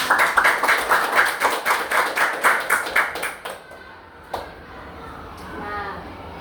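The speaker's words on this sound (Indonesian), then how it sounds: "Oke, tepuk tangan untuk kita semua." A small audience claps together at a learning session, a dense patter of rhythmic hand claps for about three and a half seconds that stops abruptly, followed by quiet room tone and a single faint tap.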